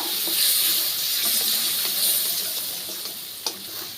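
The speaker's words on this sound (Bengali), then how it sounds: "লাল লঙ্কার গুঁড়ো দিয়ে দিচ্ছি হলুদের গুঁড়ো দিয়ে ভালো করে আবারও মশলাটাকে সুন্দর করে কষিয়ে নেব" Masala with red chili powder and turmeric sautés in a pan for a paneer and maida vegetable curry, giving a continuous close, bright frying hiss with small scraping stir sounds and one sharper tick near the end.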